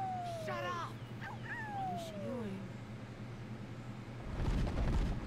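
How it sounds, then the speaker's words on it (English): A dog whimpers and yips in a series of high, sliding cries from a scene in the animated TV show Skull Island, followed by a rough, noisy burst of movement at the end. "I'm gonna say, yep, this is her dog."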